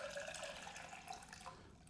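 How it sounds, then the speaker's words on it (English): Water poured into a protein shaker, a short steady trickling splash that is quiet and close, with no talk over it. "on this one, I'm going to pour the water inside"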